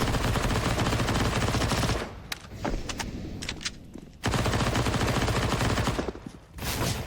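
MP9 submachine gun fire from Counter-Strike on the Inferno map, heard as two long dense automatic bursts separated by a quieter stretch of scattered shots and clicks, loud and close.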